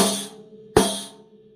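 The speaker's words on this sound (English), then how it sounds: "you get an electronic sounding, clap sounding, tambourine sound." Two accented drum hits with a Hoop Crasher attachment on the hoop, each a sharp crack with a jangly, clap-like tambourine decay. The second hit lands louder, near and alone.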